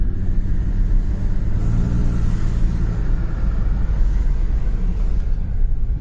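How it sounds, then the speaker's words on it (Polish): A Mercedes C124 320CE coupe rumbles steadily as it pulls out of a garage on its first test drive, its mid-range engine droning loud and continuous with light throttle. "Pierwszy test drive. Wyjazd tylko z garażu i zobaczymy, jak to chodzi."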